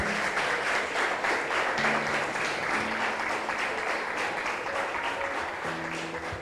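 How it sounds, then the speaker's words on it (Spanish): A church congregation applauds loudly in praise to the Lord, a sustained wash of many hands clapping over several seconds, with faint tonal sounds underneath. "Denle otro fuerte aplauso al Señor."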